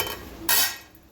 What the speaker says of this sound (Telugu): మూత తీసి